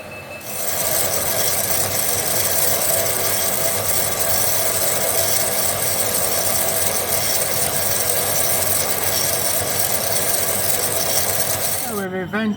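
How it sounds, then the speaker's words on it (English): A handmade rigid custom Sportster motorbike frame backbone is cut through with a power tool. The cutting runs loud and steady from start to finish as a continuous grinding, rasping roar, then breaks off abruptly at the end. "So we'll cut a chunk off"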